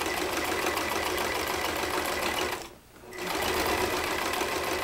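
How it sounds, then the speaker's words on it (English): A sewing machine stitches the zipper panel of a tote bag, a fast, steady mechanical whir close by that stops briefly near the middle, then runs again. "Okay, so I sewed my zipper panel on"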